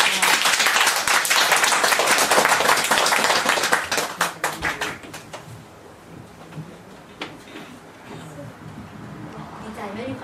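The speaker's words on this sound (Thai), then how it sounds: "ขอเสียงปรบมือพี่เหน่งด้วยค่ะ" Audience at a Red Shirt gathering in Japan applauding as Nueng is welcomed, dense clapping for about four seconds that thins out and fades into scattered claps and room noise.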